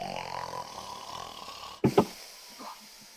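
A human voice imitates loud snoring: a couple of rough, rasping snorts in quick succession, then a softer trailing breath, following a stretch of low background noise.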